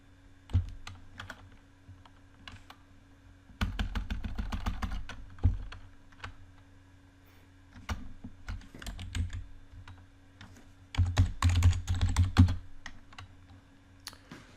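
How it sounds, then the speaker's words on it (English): Typing on a computer keyboard in a quiet room, bursts of rapid clicky keystrokes in several runs with short pauses between, close and moderately loud, no talking. "I'll type in Jupyter Notebook,"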